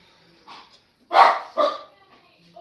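A dog gives two loud, close barks about half a second apart, following a fainter yip, with otherwise quiet room background.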